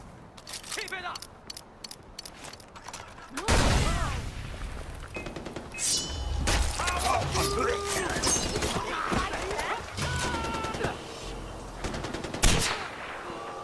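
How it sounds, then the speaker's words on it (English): Far Cry 4 gunfire crackles in sharp bursts and rapid volleys, loud and close, with voices calling out in between. "Gunfire nearby! Gunfire nearby."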